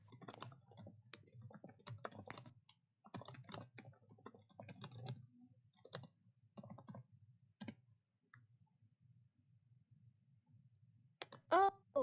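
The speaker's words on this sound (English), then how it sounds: "I'll just type it." Computer keyboard typing in bursts of quick, close clicks, pausing and resuming several times before a brief louder noise near the end.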